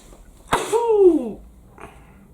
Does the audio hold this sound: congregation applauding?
no